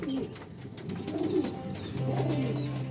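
A racing pigeon coos softly and repeatedly at close range, low throaty calls with faint chirps and rustling in the background.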